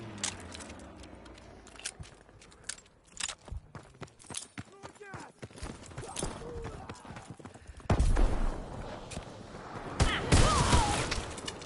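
Shotgun blasts and other gunfire in Call of Duty: WWII multiplayer, sharp bursts scattered among clip-clop-like footsteps and game effects, growing louder and denser toward the end, with speech heard intermittently.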